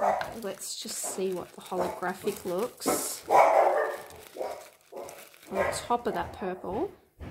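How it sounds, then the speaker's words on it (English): A pet dog barks at someone indoors, a few brief, somewhat distant barks breaking in beneath someone talking steadily over a paper craft project. "That's my dog barking at someone."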